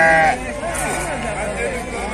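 Lambs bleat at an outdoor sheep market in Beylagan, with one loud, close bleat at the start, then fainter bleats and crowd chatter blending into steady background noise.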